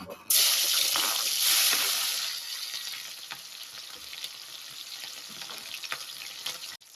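Green chilies and fried paneer hit hot oil in a pan, giving a loud, dense sizzle that bursts in at once and then settles into a steady, slightly quieter frying hiss with small crackles throughout.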